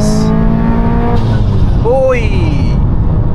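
A turbocharged 2014 Subaru WRX STI with a 605 bhp build revs up and down close by, its tone climbing and falling with a whistling sweep, while a voice is also present.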